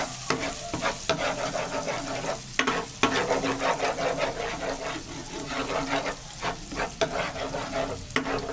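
Garlic fries in a hot pan with a steady crackling sizzle, broken by several sharp scrapes and stirs of a utensil against the metal, close and clear with no talking.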